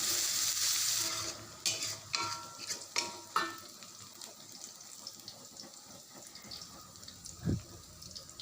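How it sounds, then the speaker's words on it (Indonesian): Browned garlic and chopped scallions sauté in a pan for fishless siomay, with a loud sizzle at first that settles into several scraping, stirring strokes and a softer frying hiss. "Lalu tumis sampai daun bawangnya harum dan matang."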